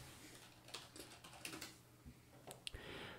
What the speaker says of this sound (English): if we go to Google and type in the stuff that we need